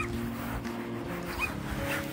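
A puppy on a winter beach gives soft whimpers and small yips over a steady low background hum, the sounds close and fairly quiet throughout.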